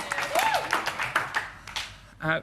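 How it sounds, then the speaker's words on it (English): Television studio audience clapping for a guest, a short spell of applause with whoops and a presenter's voice over it, tailing off as someone speaks at the end. "give her a big round of applause"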